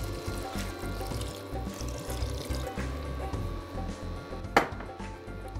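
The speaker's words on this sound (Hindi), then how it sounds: "ये गया पानी" Water poured into a cooking pot of masala gravy made with yogurt and tomatoes, a steady close pour and bubbling running for several seconds, ending with a sharp clink near the end.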